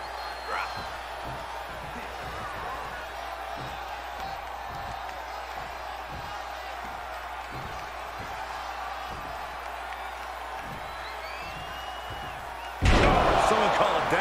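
A roaring arena crowd in the WWE 2K22 video game during a triple threat match keeps up a steady wall of noise, punctuated by repeated thuds, before a sudden loud surge at the very end.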